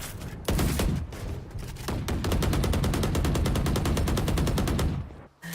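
Rapid automatic gunfire during a Valorant match, with fast evenly spaced shots in a long continuous burst, loud and close, broken by a few short pauses before trailing off at the end.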